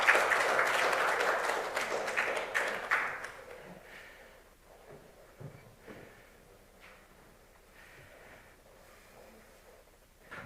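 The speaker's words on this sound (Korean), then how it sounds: "큰 박수로 맞이해 주시기 바랍니다." An audience at a Korean university-admissions information session claps for the arriving district mayor: a strong burst of applause for about three seconds that quickly thins out and fades into a quiet room.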